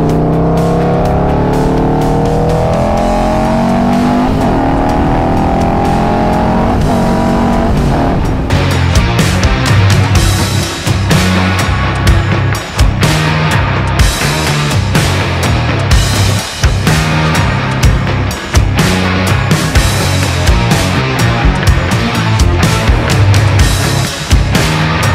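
A Harley-Davidson Road Glide motorcycle rides along an open highway on a long trip, its engine a loud, steady roar mixed with rushing wind throughout, with no voices.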